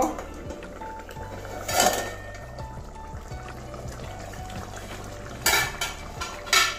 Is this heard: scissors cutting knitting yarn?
no